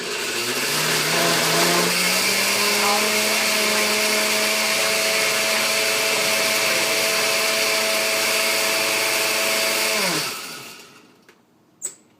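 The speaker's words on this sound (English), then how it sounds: "turn on our blender again" A blender mixing muffin batter whirs loudly and steadily for about ten seconds, its motor pitch rising slightly at first, then winds down and stops, followed by a small clunk.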